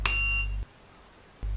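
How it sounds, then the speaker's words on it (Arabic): Buzzer alarm from a 555 timer sound sensor circuit, a harsh loud electronic buzz that cuts off after about half a second and then starts again after a short silence. "نلاحظ عند اصدار اي صوت راح نحصل على تنبيه صوتي."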